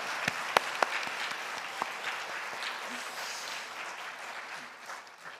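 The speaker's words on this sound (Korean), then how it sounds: "박수 주님께 하겠습니다." A church congregation at a Thanksgiving revival worship service claps together in a sustained, steady round, with a few sharp louder claps early on before the applause gradually tapers off.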